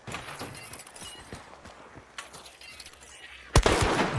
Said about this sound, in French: Et j'ai entendu des coups de feu.